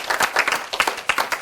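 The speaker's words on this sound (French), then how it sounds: "on peut déjà bien applaudir ces titres" Several people clap for parachuting world championship titles, rhythmic hand claps close by in short uneven bursts, brief and lively with no talking over them.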